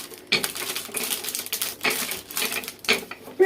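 A rolling pin flattens minced meat for thin döner sheets, giving a few rough, scraping passes about every second, close and moderately loud with quiet gaps between strokes.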